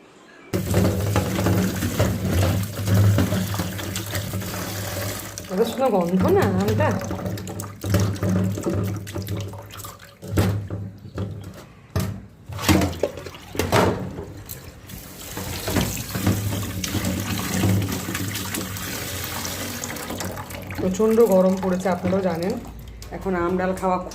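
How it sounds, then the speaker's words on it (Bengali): Tap water runs steadily into a sink while mangoes and lentils are washed, a continuous close splashing stream with brief breaks of handling and rinsing; a voice speaks over it in places. "এবার আমটা ধুয়ে নিই ডালটা ধুই ডালটা বসাই"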